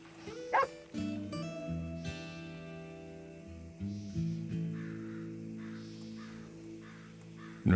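Dogs in a Red Dead Redemption 2 roleplay world bark in a few loud, close outbursts over a steady droning game background, with crow-like caws also present.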